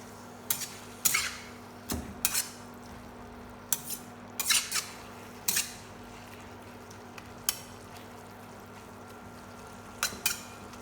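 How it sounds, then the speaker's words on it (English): A spoon scrapes and knocks against a pan while stirring tomatoes and flour, in irregular bursts, clinking sharply now and then over a quiet background hum. "Stir well so all the ingredients blend together."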